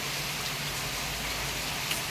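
Heavy rain pours steadily outside a hotel room balcony, a dense continuous hiss of falling water with no voices over it.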